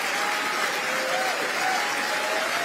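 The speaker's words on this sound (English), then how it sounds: "can I get a round of applause if that's all right?" A large audience at the EY Entrepreneur of the Year Awards ceremony applauds in a dense, even wash of clapping that holds steady from start to finish.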